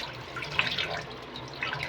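Water runs and splashes softly as an organic scrubber sponge is soaked before bathing, a steady trickle with a few brief brighter drips, close by and fairly quiet, with no talking.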